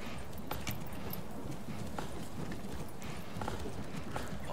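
Horse hooves clip-clop at a steady walking rhythm in the medieval strategy game Manor Lords, clear and continuous over a low ambient background.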